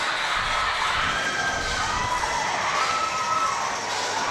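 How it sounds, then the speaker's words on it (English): Rival student cheer blocks at a high school boys basketball tournament game shout and cheer in a packed gym, a loud continuous roar with chanting voices rising and falling back and forth. "Both of these cheer blocks going back and forth."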